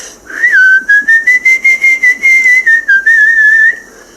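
Loud, piercing whistling from a person, one sustained high tone that slides up then holds, pulsing in a rapid rhythmic series of bursts, very close with no talking.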